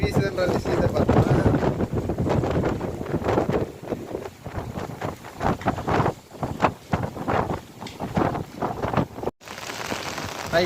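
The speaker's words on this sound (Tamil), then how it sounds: "எப்படி காத்து வீசுதுன்ற விஷயத்தை பார்த்தோம்னா" Strong cyclone wind roars outdoors, hitting the microphone in rough, buffeting gusts that rise and fall, with a rain-like hiss under it and a brief dropout near the end.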